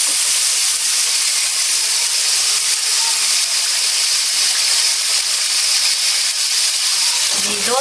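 A masala of ground tomatoes, green chillies and chickpeas frying in oil in a pan, heard as a loud, continuous, dense hiss that holds evenly throughout without pauses.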